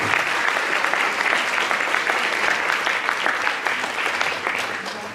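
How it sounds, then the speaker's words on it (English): An audience applauds steadily and densely following an announcement, the clapping holding fairly loud throughout and thinning only slightly at the end. "Please give them a round of applause."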